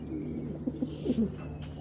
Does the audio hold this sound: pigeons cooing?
yes